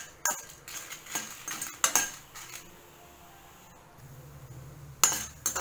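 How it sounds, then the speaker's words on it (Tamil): Black pepper and cumin dry-roasting and being stirred in a pan, giving scattered metallic clinks and scrapes of a spoon against the pan, moderately close, with quieter gaps between strokes and no talking. "மிளகு ஜீரகம் நல்லா வதங்கி வாசனை வர்ற அளவுக்கு வறுத்துக்கலாம்."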